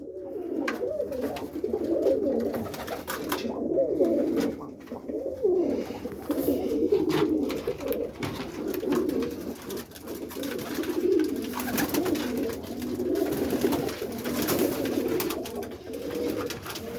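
Breeding cocks of roller pigeons coo continuously inside a coop, a dense, low, rolling murmur from several birds close by, steady throughout with no talking.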